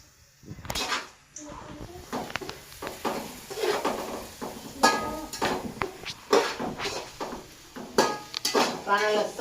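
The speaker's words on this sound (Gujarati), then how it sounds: "લસણ એકદમ સરસ શેકાવા દેવાનું પહેલા મસ્ત" Garlic roasts in a pan while a metal spoon stirs and scrapes against it, bringing clattering knocks and clinks over a soft sizzle, with someone speaking in between.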